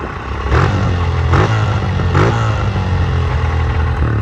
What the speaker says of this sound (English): It's it like kind of like just revs up on its own, or kind of like rev hangs a little bit.